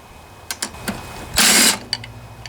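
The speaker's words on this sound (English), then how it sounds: "Looks like our 5/16 socket will do it again here." A hand ratchet fitted with a 5/16 socket works the valve cover bolts on a Toro Briggs & Stratton 7.25 163cc engine, giving a few sharp clicks and then one short, louder ratcheting burst, close by.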